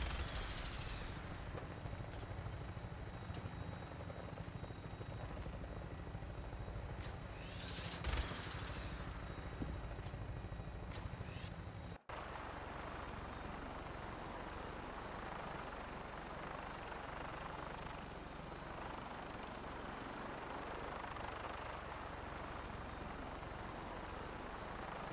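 Vertibird aircraft in Fallout 4 survival mode, a steady rotor drone and rumble running throughout, with a brief sharp burst of what may be gunfire partway in, continuous and fairly loud, no voices.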